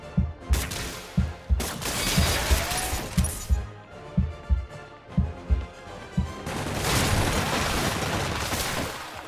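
Gunfire in a Marvel's Spider-Man fight comes as a run of evenly spaced, punchy single shots, near and heavy with deep thuds. A sharp crash or two interrupts it, and a denser, noisy barrage closes the scene.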